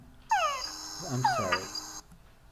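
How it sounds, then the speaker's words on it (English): Male frogs call at a breeding site to attract females, giving a couple of clear, close whining sweeps with chuck-like harmonics over a steady high insect-like drone. "the males are calling at these breeding sites to attract females"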